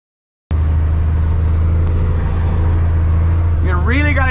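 1992 Kenworth truck driving through town, a loud steady low diesel rumble close by that starts abruptly, with a voice speaking over the engine near the end.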